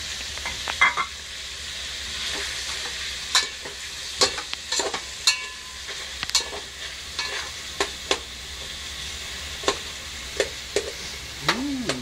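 Chicken adobo frying in a pan: a steady low sizzle runs throughout while a utensil scrapes and clinks against the pan in irregular stirring strokes, close and moderately loud, with no talking.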